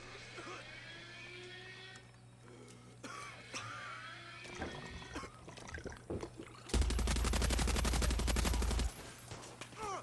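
Video game gunfire: a loud sustained automatic burst of rapid shots lasting about two seconds, preceded by scattered quieter game sounds, a throat-clear-like noise and faint talk.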